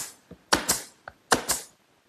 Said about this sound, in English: I can fasten them in place using my brad nailer. I'm using 3/4-inch brads and nailing into the back of the rails.